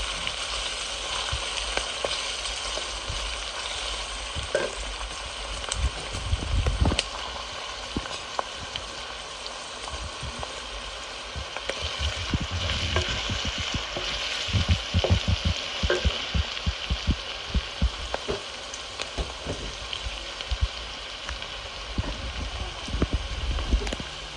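Garlic and potatoes frying in a pan make a constant close crackling sizzle, broken again and again by clattering stirs and scrapes, louder in the middle stretch.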